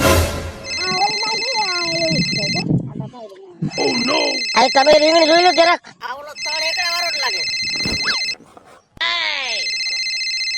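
A phone rings in repeated electronic bursts between lines of conversation, with people talking over and between the rings.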